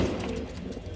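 Pigeons in a loft give a brief, soft cooing burst, faint and close, with no one talking.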